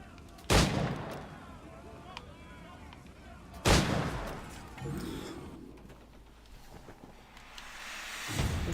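Two sharp, loud gunshots ring out a few seconds apart in the pirate game Assassin's Creed IV: Black Flag, each followed by a decaying echo, with softer ambient noise and rustles between them.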